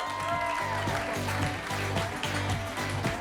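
A comedy club crowd claps for the next comic taking the stage at a class show, the applause moderate and mixed with pounding walk-on music with a steady beat.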